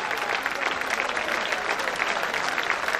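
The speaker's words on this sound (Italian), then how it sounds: "Gli applausi tutti per voi." Steady, dense applause from an audience at an outdoor patronal-feast band concert in Manfredonia, continuous and fairly loud throughout with no voices on top.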